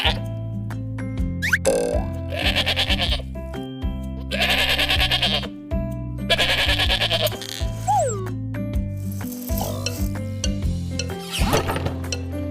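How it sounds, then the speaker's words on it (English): Several sheep bleats ring out loud and close in repeated bursts, sounding over a steady background music bed with low notes and a few small clinking and plopping effects. "Sheep."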